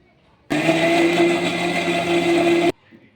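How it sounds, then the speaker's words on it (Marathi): A kitchen mixer grinder runs in one loud, steady burst of about two seconds that starts and stops abruptly, with a strong motor hum and whine. "मिक्सरचं भांडं फिरून घ्यायचं आता"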